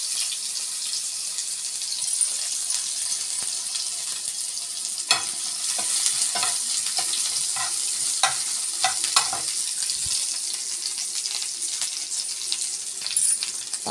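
Onions sizzling in hot oil in a pan on a home stove, a steady hiss with scattered crackles and stirring clicks throughout, close and fairly loud, with no talking.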